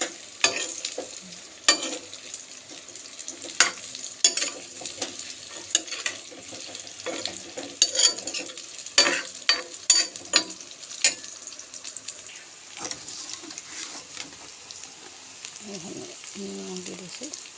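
Indian gooseberries (amla) fry briefly in hot oil, a low sizzle broken by frequent sharp scrapes and clinks of stirring, fairly close and moderately quiet, with a faint voice near the end.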